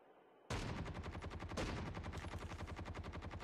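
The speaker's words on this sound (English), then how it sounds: "I'm being shot at." Sustained automatic gunfire in the mobile video game Call of Duty Mobile, a sudden loud rapid stream of shots starting after a brief quiet moment and continuing steadily to the end.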